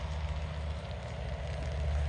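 A Lionel RS-3 model locomotive in Burlington Northern livery, running long hood forward, rounds a curve on its track, giving a steady low motor hum and continuous rolling rumble close by.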